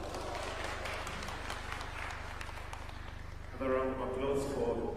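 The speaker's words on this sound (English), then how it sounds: "round of applause" An audience applauds after a speech at a formal blue economy event, with a dense, steady patter of clapping through most of the stretch, and a voice with amplified speech entering near the end.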